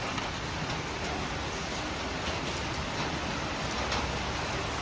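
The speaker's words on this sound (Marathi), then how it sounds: "ऑक्टोंबर हो संपतील पण पाऊस काय सरणार नाही आहे" Steady, dense rain hisses evenly throughout, a continuous wash of noise with no pauses or voices.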